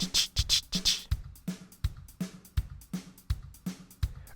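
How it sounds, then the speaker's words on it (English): Swing groove with a skipping, shuffled long-short feel: repeated drum-kit hits with bright cymbal wash alternating with low kick thuds, steady and close, no voices. "This is the sound of swing."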